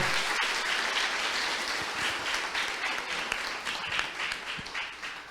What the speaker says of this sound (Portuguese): salva de palmas pro Marcel.